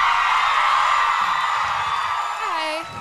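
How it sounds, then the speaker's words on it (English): A concert audience on a tour date roars with sustained cheering, whoops and applause, a dense, loud wash of crowd noise that begins to taper near the end. "Give her a round of applause."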